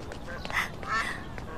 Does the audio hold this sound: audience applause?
no